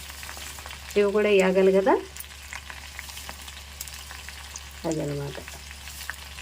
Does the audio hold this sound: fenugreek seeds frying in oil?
yes